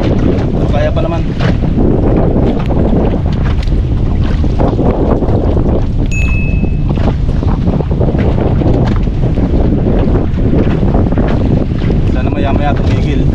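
Strong wind roars across the microphone on a fishing boat at sea while waves slosh against the hull in a loud, constant wash that never lets up.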